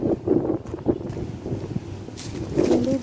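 Strong wind buffets the microphone in steady low rumbling gusts while someone walks outdoors through a hot, dusty dust storm, the roar swelling louder near the end.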